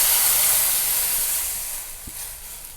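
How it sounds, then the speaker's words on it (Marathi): Milk poured into hot ghee holding fried cashew and almond pieces, a loud steady hissing sizzle that slowly fades over a few seconds, close up with no talking. "त्यातच आता ही एक वाटी दूध ओतून घेते"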